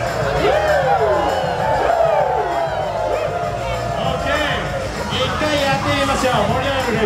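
An audience at a flair bartender show lets out rising and falling whoops and cheers, several voices overlapping above a steady murmur of crowd babble, close and fairly loud.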